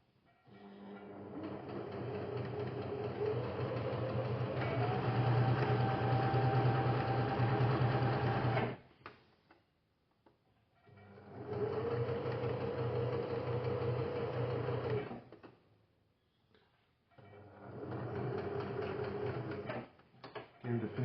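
A sewing machine back stitches fabric for fitted sheets, a steady mechanical whir with a rising note, stopping and restarting in three separate runs with short pauses between.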